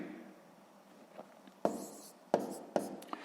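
A pen writing numbers by hand on paper during a sixth-grade long-division exercise, quiet scratchy strokes followed by three sharper taps, close and soft with no voice.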